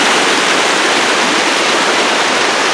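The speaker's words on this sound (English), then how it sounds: "Quite a waterfall up here." Rushing alpine waterfall near a creek crossing by Snow Lake in the Alpine Lakes Wilderness, a steady, loud, broadband roar of falling water that holds constant throughout with no voices.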